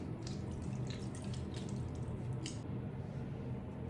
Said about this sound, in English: We wanna squeeze out any excess water again.